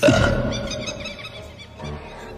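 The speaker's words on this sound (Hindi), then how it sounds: "डॉक्टर साहब, हमको बहुत जोर से डकार आवत है" A loud, drawn-out human burp starts strongly and then fades into a gurgling tail with a second, weaker swell, heard alone without talk.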